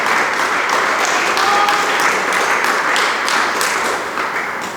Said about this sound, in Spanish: denle palmas al Dios del cielo